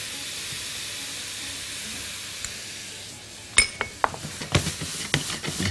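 Onion and butter go into a hot frying pan with a soft steady hiss, followed by a run of sharp clinks and scrapes of a utensil against the pan.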